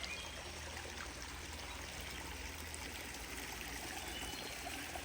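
A small waterfall spills into a stream in a koi pond garden, giving a steady, even rush and trickle of falling water that carries on without a break, with no voices.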